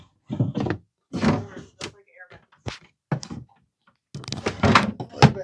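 A stiff old wooden drawer in worn hotel furniture is pushed shut, giving several dull thunks and scraping knocks amid people talking nearby.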